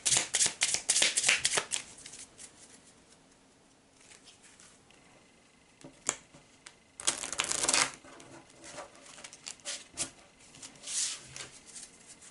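Playing cards are handled and drawn from a deck during a Doomtown: Reloaded game, with quick papery riffles and flicks coming in close bursts separated by quieter stretches.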